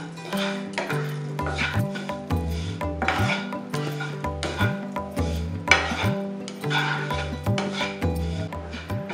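Grated fresh coconut and sugar are stirred in a pan, the spoon rasping and scraping against the metal in repeated rhythmic strokes over a quiet background.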